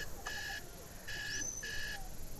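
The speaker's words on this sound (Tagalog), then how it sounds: "Nakakairita yung alarm." An electronic alarm beeps in three short, steady bursts, a higher tone gliding in during the middle one, fairly faint against a background hum during a holiday trip.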